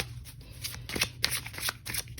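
Tarot cards being shuffled by hand in a steady, close riffling patter of soft papery flicks and slides, with no talking.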